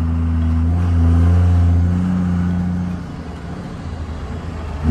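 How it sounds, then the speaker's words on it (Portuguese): Car engine running close by with a strong low rumble that swells in the first seconds and then eases off slightly. "o barulho desse carro é diferente"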